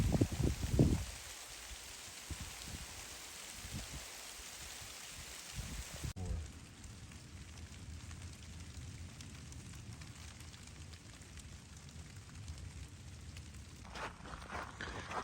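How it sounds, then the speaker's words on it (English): Heavy rain pours steadily onto rock in a desert canyon while hikers shelter under a ledge, a dense continuous hiss with a louder splash and brief handling noise at the start. "the rain is really coming down"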